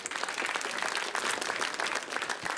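Audience applause at the 2015 eXperiments final prize ceremony in Latvia, a sustained, fairly distant wash of many hands clapping with no voices above it.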